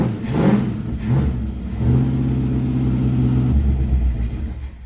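A V8 engine fitted into a Mitsubishi Lancer build revs up loud and close, then settles into a steady, throbbing idle with a low drone that holds for a couple of seconds before easing off.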